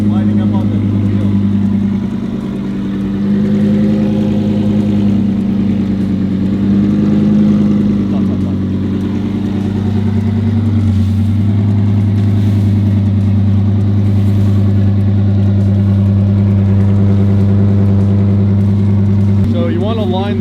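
A Lamborghini Huracan idles loudly at close range with a deep, steady exhaust drone, swelling slightly in places as if lightly revved, while people talk nearby.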